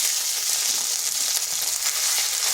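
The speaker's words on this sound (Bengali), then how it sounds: "এরপর এখানে দিয়ে দিচ্ছি আদা আর কাঁচা লঙ্কা পেস্ট" Ginger and green chili paste frying over low heat with cumin and green chilies in oil, a steady close hiss of sizzling that holds evenly throughout with no talking.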